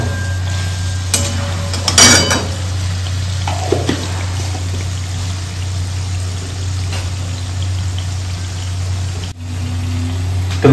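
A spoon mixes salt into the masala for a cauliflower bhaji in a pan, with a few scraping strokes and faint sizzle over a constant low mechanical hum, no voices.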